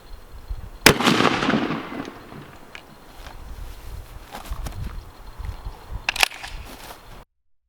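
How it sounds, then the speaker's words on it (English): A single loud shotgun blast of double-aught buckshot fired prone into ballistic gel sounds up close near the start, followed by quieter clatter and movement and a smaller sharp knock later on. "We're gonna shoot prone through the gel,"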